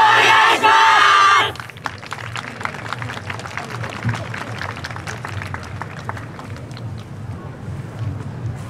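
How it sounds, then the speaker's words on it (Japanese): A festival crowd at the Osaka Bay Area Festival cheers and shouts, then keeps up a steady rhythmic clapping along over a low background rumble, with a brief loud vocal burst at the start. "それではご声援手拍子のほどよろしくお願いします。"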